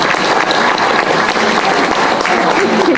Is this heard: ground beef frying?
no